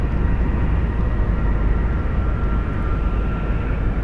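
An American Airlines jet takes off from runway 18L at Dallas/Fort Worth airport at night, a loud, steady broadband engine roar heard from a distance that holds evenly throughout.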